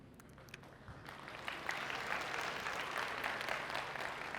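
A comedy show audience breaks into applause, starting quiet and scattered and swelling after a moment into full, sustained clapping from a large crowd, heard at some distance.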